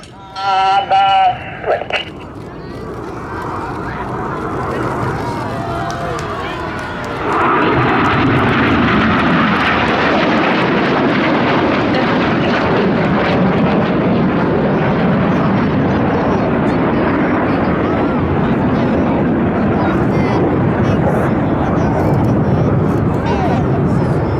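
Red Arrows jets fly a display at an air festival, a brief clatter giving way to a rising roar that swells into a loud, sustained broadband jet rumble.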